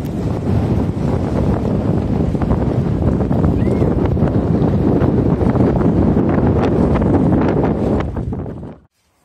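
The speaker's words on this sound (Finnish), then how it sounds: "Tänään on kyllä kova myrsky. Ihan järkyttävä tuuli." Strong, gusty storm wind buffets the microphone with a continuous roaring rumble and rustle, loud throughout before cutting off abruptly.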